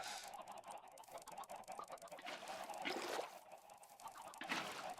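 Chickens in a Minecraft-style survival game give soft clucks and squawks, a few brief calls over faint game background, quiet and close.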